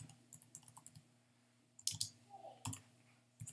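Coordinates typed on a computer keyboard: a few soft, close key clicks in short uneven bursts, quiet and without talk.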